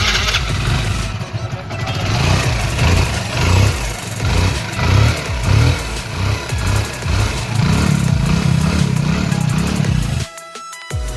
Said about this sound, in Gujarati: ને હવે આમાં જોવો બાઇકનું સાઉન્ડ